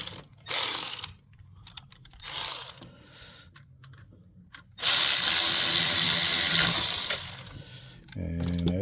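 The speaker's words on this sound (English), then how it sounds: "Let me get the ratchet to get her snugged up." A ratchet tightening a bolt on the water pump of a 2017 Ford F150 5.0 gives a few short clicking bursts, then a longer loud run of rapid ratcheting, and ends with a brief low knock.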